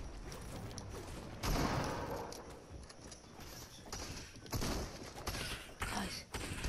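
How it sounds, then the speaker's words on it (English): Gunfire from the video game Fortnite crackles in dense, rapid bursts over a constant noisy game backdrop, with louder volleys flaring up repeatedly throughout. "People are shooting me out the air."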